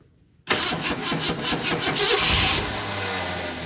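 A 1970 Ford Mustang V8 that sat abandoned for decades cranks and fires after a short silence, then settles into a loud, steady, rough idle close to the microphone with no talk over it.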